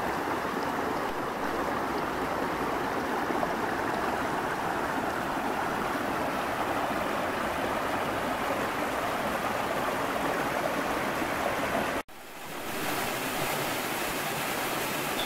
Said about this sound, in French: Ce petit torrent qui coule le long de cette mini montagne.